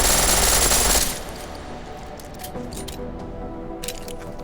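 Pistol firing in full auto in Deus Ex Mankind Divided: a loud, dense burst of rapid shots for about a second, then quieter background with scattered faint clicks.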